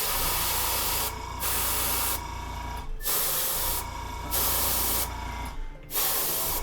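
Paint sprays onto a miniature model in four or five close, loud hissing bursts separated by brief pauses, with no voices.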